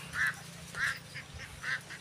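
Ducks quack loudly and close by, a few nasal calls repeating in quick succession with a soft background murmur.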